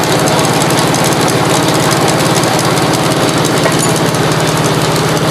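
A 1967 Gravely 430 tractor with a worn transmission spins loudly and steadily up close, giving a continuous droning, knocking mechanical whir with no pauses.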